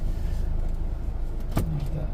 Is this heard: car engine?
yes